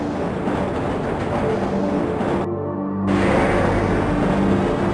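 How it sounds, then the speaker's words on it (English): The Black Mesa tram in the 1998 PC game Half-Life rolls along its track with a steady mechanical rumble and hum. The noise breaks off briefly, then resumes a little louder. "This train is inbound from Level 3 dormitories to Sector C test labs and control facilities."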